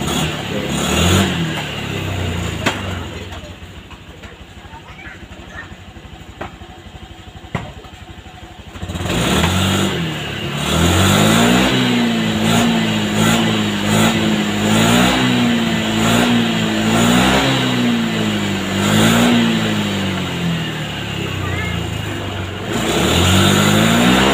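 A Honda Scoopy scooter engine revved repeatedly with the throttle while the rear wheel spins, loud and close, with a steady drone broken by rising and falling surges and a brief quieter stretch early on.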